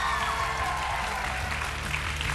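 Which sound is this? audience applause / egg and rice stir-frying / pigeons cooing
audience applause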